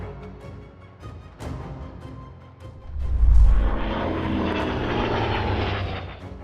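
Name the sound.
airplane shortly after takeoff before crashing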